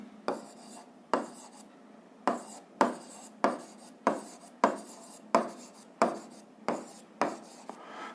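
A pen writes out a physics definition on paper in short scratchy bursts, roughly a dozen quick strokes with brief pauses between them, close and clear with no talking.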